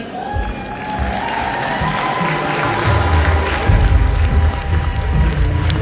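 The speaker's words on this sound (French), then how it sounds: "vos applaudissements, s'il vous plaît" A room full of people clapping, dense steady applause building slightly louder, with a voice faintly mixed in.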